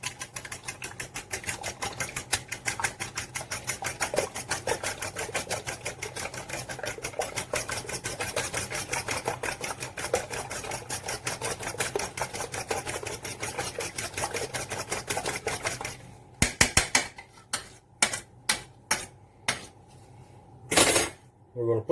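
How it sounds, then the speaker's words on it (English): A fork rapidly beating and breaking egg yolks in a bowl, a fast, dense clatter of metal against the dish that runs continuously, then breaks into a few separate clinks and taps. "Take our fork, break the yolks."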